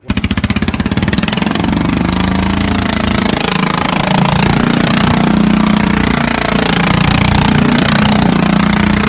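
A homemade race lawn mower with a cheap engine build, 1-inch shaft, 6-inch pulley and welded differential revs up loud and close, then holds a harsh, steady drone with rapid knocking pulses.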